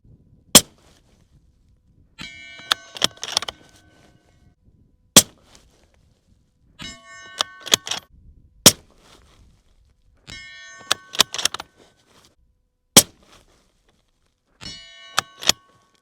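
Rifle shots fired outdoors in an accuracy test: sharp, loud cracks spaced several seconds apart, some in quick pairs and clusters, several followed by a brief metallic ringing.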